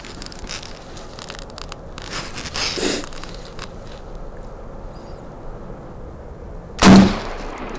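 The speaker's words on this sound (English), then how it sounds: "Shot number one, 20 yards." A single turkey shotgun blast fired at a target 20 yards away, one sharp loud crack late in an otherwise quiet outdoor stretch.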